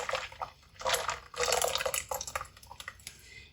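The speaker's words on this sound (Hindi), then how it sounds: "इसके अंदर थोड़ा सा पानी डाल के" Water is poured into a wok already holding orange juice, giving soft splashing and trickling in uneven bursts, quiet and close.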